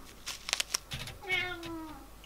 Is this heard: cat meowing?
yes